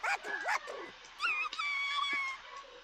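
A voice mimics a dog with short whimpers and yips, followed by a longer whining, high-pitched howl-like sound, close and fairly quiet.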